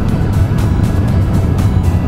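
A Yamaha XSR900 or MT-09 pulls hard in fourth gear from about 3000 rpm, a steady, loud, low engine roar with no break across the couple of seconds.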